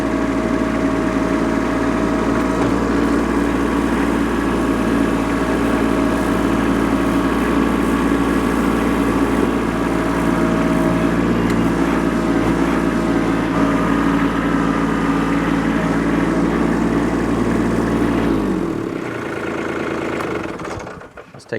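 A compact tractor with a hydraulic front end loader grading dirt, its engine running in a loud, steady idle-like drone for most of the stretch before winding down near the end.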